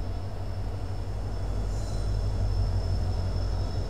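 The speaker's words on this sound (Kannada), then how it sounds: "train number 16227 Mysuru Talaguppa over night express entry ಆಗತ್ತೈತ್ರಿ ಈಗ ಬೀರೂರು ಜಂಕ್ಷನ್ಗೆ" Train 16227, the Mysore–Talaguppa overnight express, pulls into Birur Junction with a steady, continuous low rumble and rolling noise that swells slightly toward the end, with no voices.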